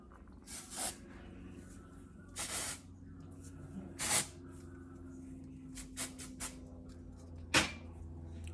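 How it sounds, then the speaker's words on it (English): Volume and fullness dry shampoo sprayed onto hair roots, a series of short aerosol hisses in uneven bursts, close and fairly quiet, with no talking. "I actually just take dry shampoo. It's a volume and fullness dry shampoo"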